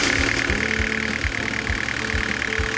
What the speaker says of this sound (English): turn on the motor and warm up on idle